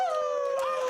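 A man imitates a wolf howl, one sustained, steady tonal note held loud and close throughout, with no other sound around it.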